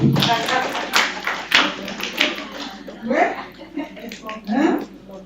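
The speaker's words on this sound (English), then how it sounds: "Give them a kind of a clap" A handful of scattered claps from an audience after a teacher's talk at an education event, sharp separate hits early on that thin out as people start talking.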